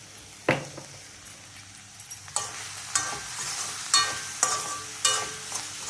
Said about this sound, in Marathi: हिरव्याचा खडा तेलात घातला आहे, त्यामुळे जरा खसकायचा